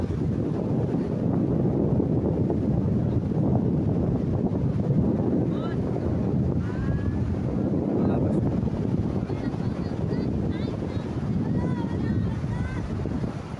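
Sea breeze buffets the microphone at a hot beach, a continuous low rumbling wind noise with faint surf beneath, steady and fairly loud throughout, with a few faint higher sounds drifting in the background.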